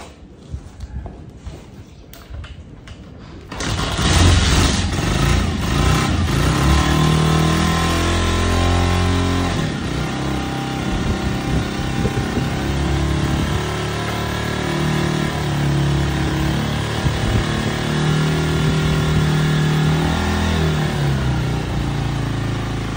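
A Honda TMX 125 motorcycle engine sputters after being choked, then catches and settles into a steady, loud idle close by, with faint fiddling noises at the start.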